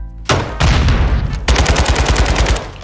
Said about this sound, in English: he sniped through the wall